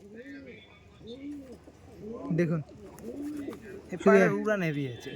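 Pigeons coo softly in a repeated, rhythmic series of rounded calls, close by; a person speaks briefly over them near the end.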